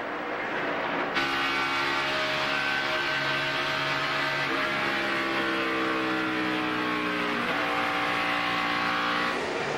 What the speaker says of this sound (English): And here comes Nadu, little drafting push for Junior.